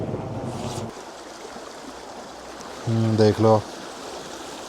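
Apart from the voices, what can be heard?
river stream water flowing while washing hands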